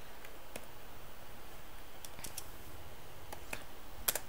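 Fingers type on a computer keyboard in quiet, scattered clicks and taps with brief pauses between keystrokes, faint and close, with no voices.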